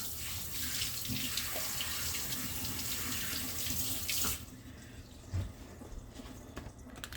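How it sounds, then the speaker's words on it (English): Tap water runs steadily into a kitchen sink for hand washing, a broad loud hiss that stops abruptly partway through, leaving quieter room sound with a faint knock or two. "I need to wash my hands before I touch anything"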